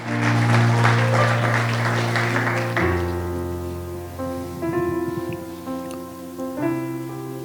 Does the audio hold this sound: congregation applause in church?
yes